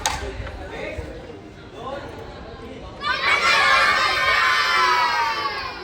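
A lively crowd at a Navratri preparation gathering, first murmuring and calling out, then breaking into loud, sustained cheering and shouting with many high children's voices.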